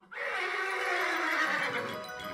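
A polo horse gives a single long, loud neigh up close, a shrill whinny that holds and slowly fades.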